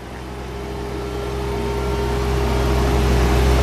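A 2013 Ferrari 458 Spider engine revving, a loud steady drone with a strong low rumble that builds gradually over a few seconds, close and continuous with no talk.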